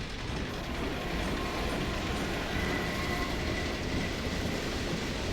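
A train rumbles past steadily in Half-Life 2 MMOD, a dense, continuous roar of rail noise with faint clickety-clack and a thin squeal, heard alone.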